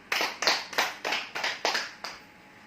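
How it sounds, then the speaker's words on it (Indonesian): Classroom applause in a second-grade lesson, about seven sharp, evenly spaced claps close by, like a small group clapping in unison, then quiet. "Beri aplaus"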